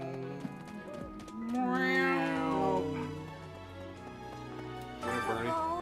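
A human voice imitates a cat's meow during Fire Emblem Three Houses play, with a couple of close, drawn-out, gliding meows of varying pitch.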